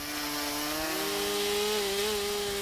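A chainsaw carves wood, its engine holding a steady loud whine that rises slightly in pitch partway through as the chain bites, with no speech.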